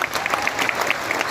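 Audience at an indoor event in a Patna memorial hall applauding title holders, a steady burst of dense clapping throughout with no break.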